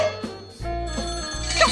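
A telephone rings in a loud, repeating electronic trill, close by, the rings coming in quick succession, in the cartoon House of Mouse.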